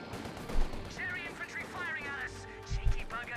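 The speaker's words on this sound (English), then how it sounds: "Full screen being shot to bits here by the Bren gun mounted in the front." Bren gun mounted on a universal carrier fires in short bursts amid battle noise in Company of Heroes 2, with deep impacts and explosions underneath someone talking.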